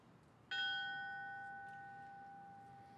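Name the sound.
memorial bell being rung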